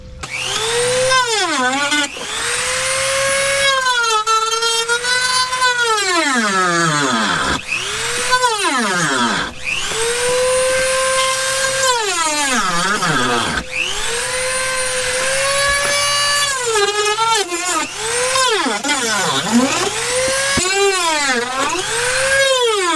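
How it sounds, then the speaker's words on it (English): A power tool cuts a hole in a planter box wall, its loud whining motor repeatedly bogging down and revving back up in long swooping surges under load. "So this is where I got to cut my little hole."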